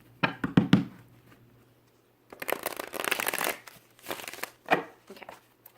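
Tarot cards are shuffled up close in quick riffling bursts, a short flurry first, then a longer stretch of rapid shuffling after a pause, followed by a few separate softer taps.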